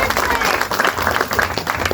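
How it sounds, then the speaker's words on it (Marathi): A crowd at a hypnosis stage show applauds loudly for an uncle on stage, with dense continuous clapping mixed with crowd voices and talking, close and full. "मामा यांच्यासाठी एकदा जोरदार टाळ्या होणार"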